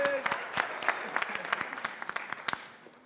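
Sparse, thinning applause from an audience at a debate event, individual claps standing out and tapering off over about three seconds, with a little voice at the start.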